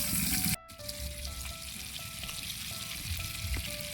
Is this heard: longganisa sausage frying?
yes